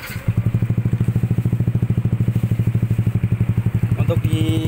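Yamaha NMAX or Aerox scooter fitted with an F2 Racing exhaust idling at low RPM, a close, steady, rapid pulsing putt that stays even and soft, with a slight rise in the final moment.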